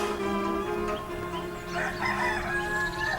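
A Transylvanian naked-neck chicken, the so-called churkey with a large comb, crows once, loud and close, a long drawn-out call over a steady background hum.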